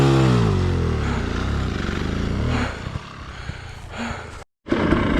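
An off-road motorcycle engine, a KTM or Beta trail bike, revs on a green lane in North Wales: a loud, close throttle roar that rises in pitch, eases off, then surges again after a brief cutout.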